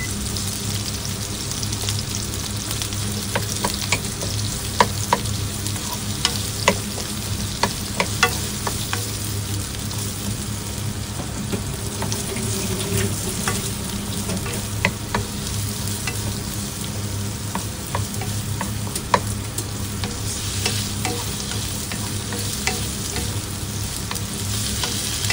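Onions fry in a pan in a home kitchen in Japan, giving a steady close sizzle broken by the frequent scrape and clack of a utensil stirring, with no talk.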